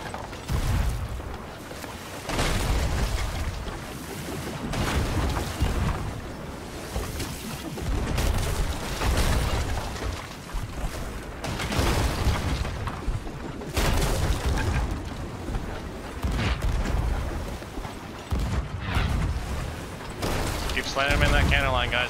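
Ship cannons fire in a naval battle video game with brigantines, repeated booming volleys and impacts throughout, with frequent talk over the combat.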